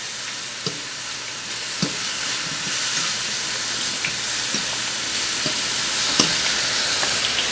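Mushroom veggie burger patties fry steadily in a pan, a loud continuous hiss and sizzle with occasional sharp pops and taps close by, and no talking.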